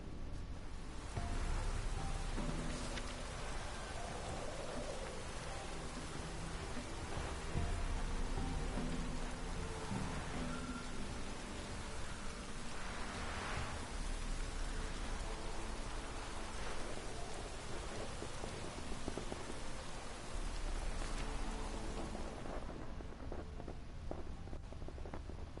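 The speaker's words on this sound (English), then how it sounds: "Looks like rain." Steady heavy rain pours down continuously in a video game, with low rumbles of thunder rolling underneath at intervals.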